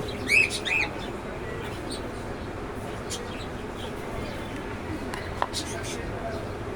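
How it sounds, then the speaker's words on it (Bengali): Budgerigars chirp in a few short, high bursts near the start, with scattered chirps later over a steady background hiss. "আমার কাছে বাজিগার আছে"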